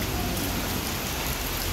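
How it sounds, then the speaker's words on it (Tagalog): Sudden heavy rain pours down steadily onto surfaces after hot weather, a dense continuous hiss that fills the scene with no voices. "Kanina medyo mainit pa ang panahon, tapos bigla na lang umulan."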